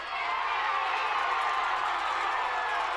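Crowd noise at a high school boys' football game, Shawnee Mission Northwest against Shawnee Mission South, steady and dense throughout with mixed cheering and booing from the stands.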